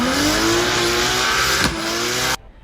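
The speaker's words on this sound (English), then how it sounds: "we got to listen to some pretty sweet sounding drift cars" Loud, close drift car engine revving hard with rising pitch, a brief tire squeal or shift midway, then cutting off abruptly near the end.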